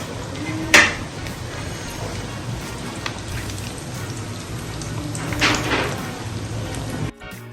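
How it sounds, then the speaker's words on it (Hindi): Beef chops fry in hot oil with a continuous crackling sizzle, lifting into a couple of louder spitting bursts along the way. "बाकी की भी चांपें मैं इसी तरह फ्राई कर रही हूँ"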